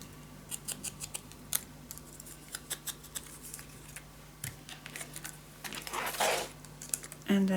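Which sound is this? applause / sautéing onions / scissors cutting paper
scissors cutting paper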